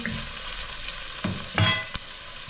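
Scrambled eggs with onion and a little garlic fry in a pan with a steady, soft sizzle. A few light clinks of utensils come through near the end.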